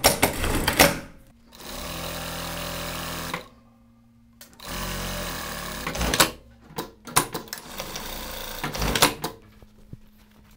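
A sewing machine stitches shirt fabric in short bursts, a close, steady mechanical whir running for a second or two at a time, separated by pauses with clicks and handling noises in between.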